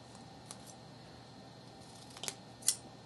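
Scissors cutting 320 grit sandpaper into small pieces for model work, a few quiet crisp snips with a louder final cut, faint against a soft background hum and no speech.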